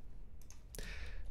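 Keys clatter on a computer keyboard as a command is typed into a Linux terminal, a few faint clicks followed by a louder burst of rapid typing, close and quiet with no voices.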